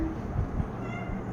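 Pet cats meow softly in a quiet indoor space, a couple of brief, faint calls over steady background hiss.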